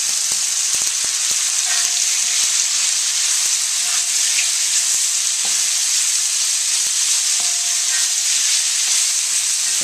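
Pork and bok choy stir-fry in a pan over the highest heat, giving a loud, continuous sizzle. Scattered scraping clicks from stirring sound through it, and no one speaks.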